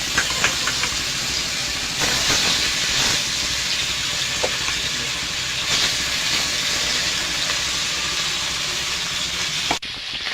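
Fish fry in hot oil in a wok as a loud, steady, hissing sizzle that runs throughout, with a few faint clicks and a sharp knock near the end.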